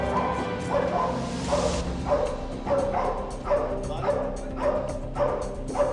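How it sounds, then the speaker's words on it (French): An army defense dog barks repeatedly in a steady rhythm, loud deep barks roughly every half second over a dense background rumble. "La tâche d'un chien est de dépister le coupable possible, de le bloquer et d'aboyer"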